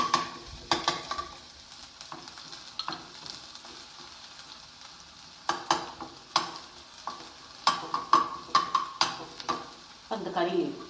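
Garlic stir-fried in a pan for Hyderabad chicken, a soft steady sizzle broken by repeated sharp scraping strokes of a spoon against the pan, close and fairly quiet.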